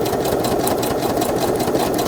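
A sewing machine stitches the corners of a journal cover with a steady, continuous whir that runs close and fairly loud throughout, without pauses or talk.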